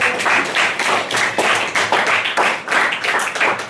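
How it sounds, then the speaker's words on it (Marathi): A burst of enthusiastic clapping from a classroom group, fast and uneven, continuing loudly throughout. "त्याच्यासाठी जोरदार टाळ्या वाजवा"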